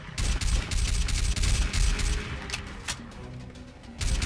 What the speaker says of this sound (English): I'm kind of tapping the screen instead of holding it down to save bullets